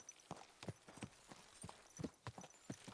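Horse hooves clip-clop in a steady walking rhythm in the video game Kingdom Come: Deliverance II, about a dozen soft hoofbeats on firm ground, fairly close and moderately quiet.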